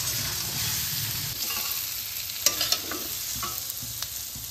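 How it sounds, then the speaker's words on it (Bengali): Potato pieces and young jackfruit fry in hot oil with a dense, continuous sizzle, punctuated by a few close spatula scrapes and taps as they are stirred, no voices. "আলু আর এঁচোড়টা খুব সুন্দরভাবে ভাজা হয়ে গেছে"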